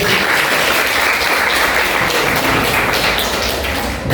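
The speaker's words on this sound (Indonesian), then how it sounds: "Tepuk tangan untuk diri." A school class claps for themselves, a loud, dense burst of many hands clapping at once in a classroom, sustained evenly before fading slightly at the close.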